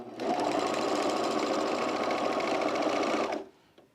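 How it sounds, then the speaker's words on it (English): A sewing machine runs steadily for about three seconds while stitching up a sweatshirt in a clothing repair, loud and close, with a dense mechanical whir that stops abruptly, then a brief quiet tail. "So yeah, I'll just sew it up."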